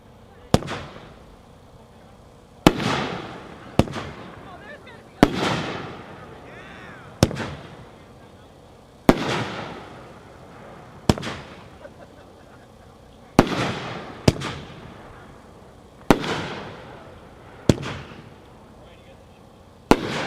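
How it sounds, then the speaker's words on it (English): Miracle Full Metal Jacket firework cake firing nine loud, sharp shots at irregular intervals of roughly one to three seconds, each bang trailing into a brief crackling decay, heard outdoors. "Number 6, Full Metal Jacket by Miracle, pack 4-1, 9 shots."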